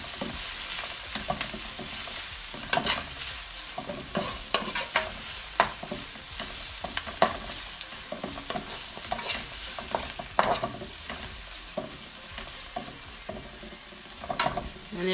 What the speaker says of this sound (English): and then we're gonna stir it up.